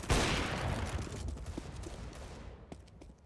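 Gunfire in CS:GO, a loud burst at the start that decays into a dense rumbling wash, with a few fainter shots trailing off near the end and no talk.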